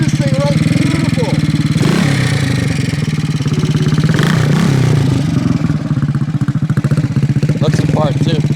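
A 1968 Harley-Davidson 250 Sprint single-cylinder four-stroke runs close by with a choppy, pulsing exhaust beat, swelling in brief revs and clattering, as someone speaks over the engine.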